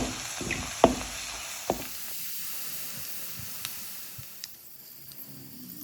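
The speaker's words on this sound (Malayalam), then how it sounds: "നന്നായിട്ടൊന്ന് ഇളക്കി കൊടുക്കുക തീ എപ്പോഴും ചെറിയ ഫ്ലെയിമിൽ വേണം മീൻകറി വയ്ക്കാൻ" Ginger and garlic for fish curry sizzle softly over a low flame, with a few sharp stirring clinks at the start and then a faint, steady hiss.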